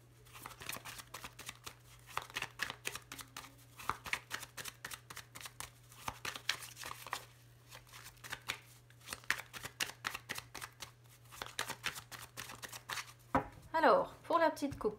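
Tarot cards being shuffled and cut by hand: quick, papery riffles and soft slaps come in repeated bursts throughout, with brief pauses between them and faint talking in the background.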